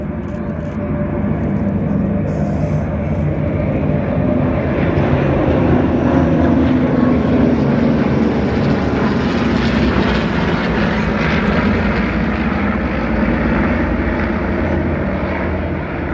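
A formation of propeller-driven aircraft flies a Balbo display overhead at the Wings Over Illawarra 2022 airshow. Their engines make a loud, steady drone that holds for the whole stretch, swelling gently with no talk over it.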